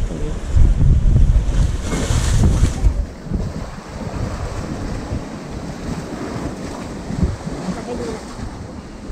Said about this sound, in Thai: ข้างหลังจะเป็นทะเลที่เราสามารถเดินลงไปเล่นน้ำได้เลยนะครับ